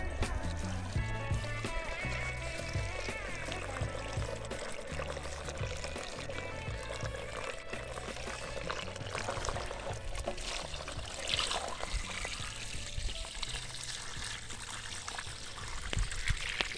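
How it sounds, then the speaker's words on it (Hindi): Water pours steadily from a vessel into two small clay pots set beside plants in an outdoor village yard. The trickle runs continuously for the whole stretch, close and even, without speech. "अब फुल पानी डाल के दोनों ही छोटे छोटे मटके भर दिए"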